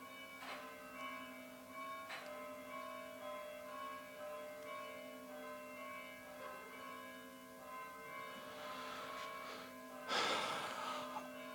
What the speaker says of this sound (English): I don't know if you can hear these bells, but I live very close to a church here in Greece.